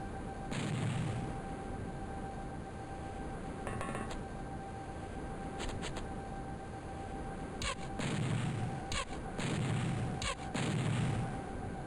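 Reaction-fire gunshots in X-COM: Terror From the Deep sound as a series of sharp retro game blasts, some single and some in quick clusters, over a low steady hum.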